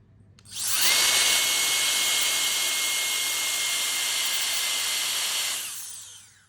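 A BL16 mini turbo jet fan blower spins up to a loud, piercing whine with a strong rushing hiss, holds steady for several seconds, then winds down.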